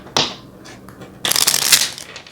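Oracle cards are shuffled by hand: a quick riffle, a few soft taps, then a longer, louder flurry of papery card riffling, heard close with no talk.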